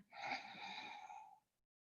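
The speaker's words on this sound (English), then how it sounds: "breathing in as deep as you can" A long, deep inhale lasting over a second during a breathing exercise, breathy and close, then silence.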